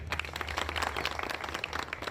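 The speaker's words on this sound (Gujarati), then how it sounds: "આપણે સમગ્ર પોલીસ તંત્ર માટે તાળી પાડી અને લોકોનું અભિવાદન કરીએ" A crowd at a police station ceremony claps in a dense, steady patter of applause for a couple of seconds, moderately loud.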